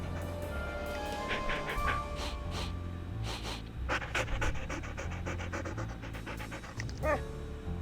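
Ghost dogs in the video game Ghost Dogs of Moon Lake pant heavily and steadily up close, with a few snorts and short whimpers breaking through the rhythmic breathing.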